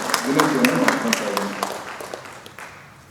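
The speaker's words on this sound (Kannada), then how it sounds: "ಈ ಅಭಿಯಾನಕ್ಕೆ ಕೈ ಜೋಡಿಸುವಂಥ ಎಲ್ಲ ಹಿರಿಯರಿಗೆ ಒಂದು ಚಪ್ಪಾಳೆ ತಟ್ಟುವ ಮುಖಾಂತರ ವಿನಂತಿಯನ್ನು" An audience at a public meeting on saving the Tunga river claps in a short burst of applause that starts over a voice and thins out gradually to quiet.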